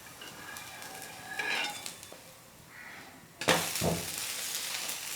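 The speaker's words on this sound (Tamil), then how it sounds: "தோசை வந்து ஒரு பக்கம் வெந்துருச்சு இப்போ நம்ம திருப்பி போட்டுக்கலாம்" A black chickpea dosa on a hot pan, with quiet scraping and light utensil clinks, then a sudden loud burst of sizzling after it is flipped.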